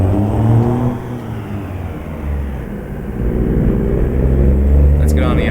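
Truck engine in American Truck Simulator droning and revving on the road, a continuous low rumble that swells and eases, steady and close throughout with no pauses.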